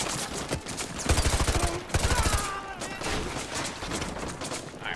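Rapid bursts of gunfire from militia in the Call of Duty Modern Warfare 2 Remastered video game crackle and rattle in quick repeated volleys, with faint speech mixed in at times.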